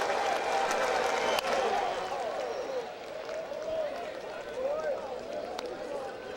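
Crowd noise from baseball fans at a Cubs at Reds game, a steady broad roar with scattered shouts and cheers that sits loud throughout and swells slightly at times, with a commentator speaking over it.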